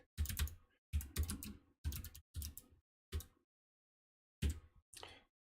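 Typing git commands on a computer keyboard in a quiet room: short bursts of close, crisp key clicks in clustered groups with small gaps between them, fairly soft overall and without any talk.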